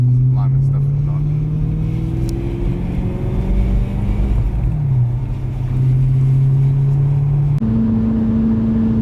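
A BMW E90 M3 V8 engine idles and blips through a light rev match while driving after a rod bearing replacement. It makes a loud, close drone that rises and falls in pitch, with people talking in the car over it.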